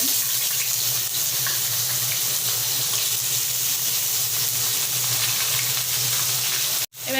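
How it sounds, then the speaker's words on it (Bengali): Whole cumin seeds and bay leaves fry in smoking-hot oil, giving a loud, continuous close-up sizzle with a brief dip near the end. "তেল গরম হয়ে গেছে ধোয়া ছেড়ে দিয়েছে আমি গোটা জিরে দিয়ে দেবো তেজপাতা দিয়ে দেবো"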